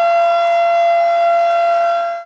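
Commemorative civil defense sirens wail across Turkey at 9:05, heard as a loud, steady, sustained tone with strong harmonics held throughout and fading out at the very end, with no voices.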